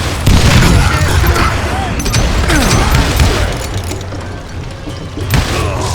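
Gunshots in the video game Call of Juarez Gunslinger: heavy booming shots and crashes, loud and close, several in quick succession over a dense battle din, with voices talking over them.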